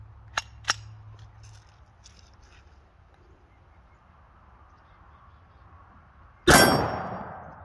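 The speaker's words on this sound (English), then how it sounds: "upside down shooting" A Hi-Point JXP 10mm pistol fired upside down at an outdoor range: two sharp close shots early on, then a single loud blast with a ringing tail after a quiet pause.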